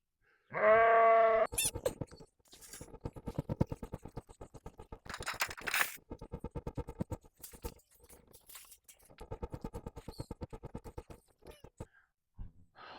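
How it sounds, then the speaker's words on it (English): Unshorn sheep give one loud, close bleat, followed by a long stretch of rapid, uneven pattering and scuffling of hooves on the ground with a few faint calls, then near quiet at the end. "Those are my sheep, and I still haven't sheared them."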